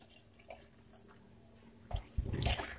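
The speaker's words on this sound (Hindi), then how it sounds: "और अब हम इसमें शामिल करेंगे पानी।" Water poured into a cooking pot holding apples and sugar for juice, a quiet lead-in then a burst of close splashing and gurgling that builds toward the end.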